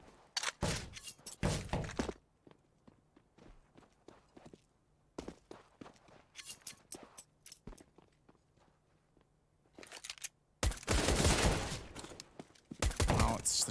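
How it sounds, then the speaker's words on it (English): Gunfire in Counter-Strike: Global Offensive arrives as loud, sharp bursts and single shots, clustered early and late, with quieter footsteps and thuds in the gaps between. "Well, it's the shots out toward the CT spawn, and the pistol's now on the back foot."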